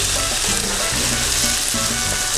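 Onions frying and browning in a pan give a steady, loud, dense sizzle that holds evenly from start to finish, with no talking.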